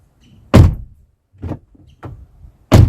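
A Ford car door opens after its handle is pulled twice, with one loud sharp latch clunk, two softer mid-level handle pulls, then a second loud clunk at the end, each short and close by.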